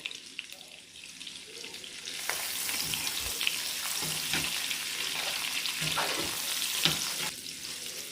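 A container of mushrooms drops into a hot pan and starts frying, so a quiet start gives way to a steady loud sizzle with occasional stirring knocks.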